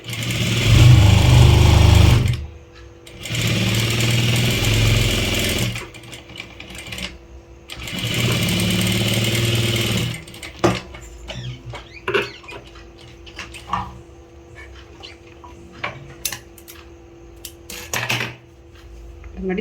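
A sewing machine stitching a sleeve runs in three loud, steady bursts, then gives way to quieter clicks and fabric handling at close range.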